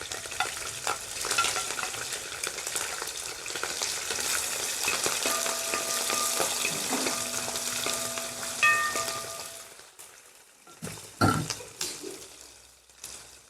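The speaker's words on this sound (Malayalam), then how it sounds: "കടുക് നന്നായിട്ട് പൊട്ടിക്കഴിഞ്ഞു ഇനി അതിനകത്തേക്ക് നമുക്ക് പച്ചമുളക് ഇട്ട് കൊടുക്കാവേ" Green chilies dropped into hot oil with already-popped mustard seeds while making a lubika (lovi-lovi) pickle give a loud, steady close sizzle with stirring for about ten seconds, then fade to quieter scattered crackles and a few clinks.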